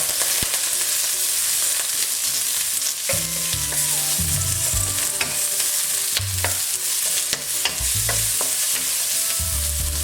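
Black bean and garlic paste sizzling steadily in a hot pan, a loud close-up crackle throughout with occasional scraping and stirring knocks, no one speaking.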